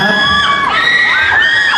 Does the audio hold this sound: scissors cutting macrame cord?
no